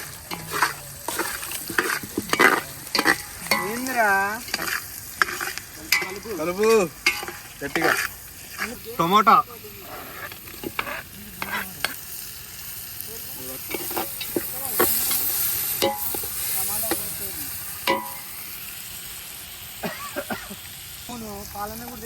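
Egg biryani masala sizzles and fries in a pot outdoors while a ladle stirs and scrapes it, with busy, close frying hiss and voices talking over the first half.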